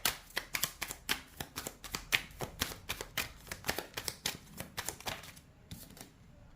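Tarot cards being drawn and laid down one after another, a quick run of crisp, close slaps and flicks in an uneven rhythm that thins out toward the end.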